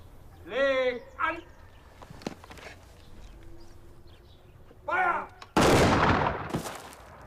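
Gunfire at an execution by shooting of a Viennese soldier in the Wehrmacht: one sudden loud broadband blast late in the clip, decaying into noise, after stretches of speech.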